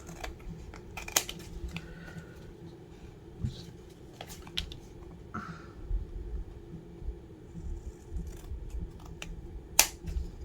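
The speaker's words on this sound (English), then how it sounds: "I must grab my good scissors." Good craft scissors snip through paper and tape while a treat box is being decorated, giving scattered sharp clicks and short cuts against a quiet room hum, with no talking.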